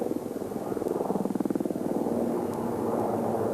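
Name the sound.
Denel Rooivalk attack helicopter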